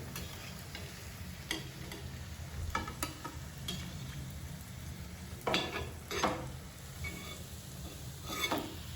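Colocasia leaf rolls (aluvadi) fry in oil, a soft low sizzle under scattered clicks and taps of a utensil against the pan, fairly quiet with no talk.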